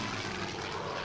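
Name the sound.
bomber aircraft engine in a WWII strategy video game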